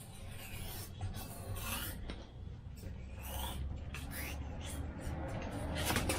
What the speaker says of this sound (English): I'm going to cut 45-degree angle on the bottom